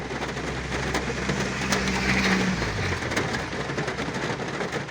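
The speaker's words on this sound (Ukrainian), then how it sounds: "Я сподіваюся, що ви чуєте, коли дощ, це ми в машині чекаємо." Rain falling on a car parked on a Lviv street, a continuous hiss and patter heard from inside, with a low rumble of passing traffic underneath.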